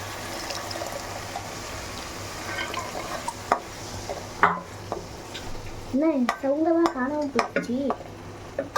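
Chili powder masala frying in oil for a chickpea curry, a soft sizzle with stirring and scraping in the pan, joined by a brief voice near the end.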